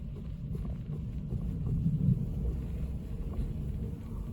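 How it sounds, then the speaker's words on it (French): Strong wind rising during a supercell thunderstorm, heard as a steady low roaring rumble buffeting the microphone, swelling briefly in the middle and continuing throughout with no talking. "Et le vent il monte à mort."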